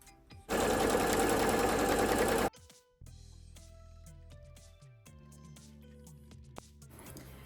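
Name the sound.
sewing machine stitching the fabric margin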